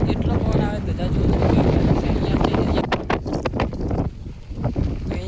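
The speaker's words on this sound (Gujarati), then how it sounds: "એટલો પવન આવે" Strong wind gusts on the hilltop of Sankaleshwari Mataji temple, among Gujarat's highest hills, buffeting the microphone in loud uneven surges with occasional thumps and voices faintly underneath.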